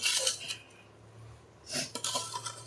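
A ladle stirs and scrapes through small-cut mango pickle in a bowl, giving two short bursts of close metallic clinks and scraping separated by a quiet pause.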